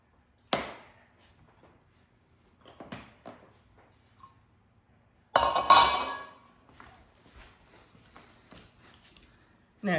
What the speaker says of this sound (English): let me get my pan so that I can get that ready